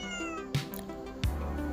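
House cat meowing to be let outside, two short near meows about half a second apart over a steady indoor background hum, no talking.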